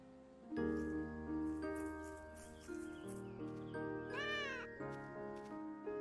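Cat meows in the mobile game Mabinogi Mobile, a rising, pitched call near the middle heard over steady game background music with tonal layers throughout.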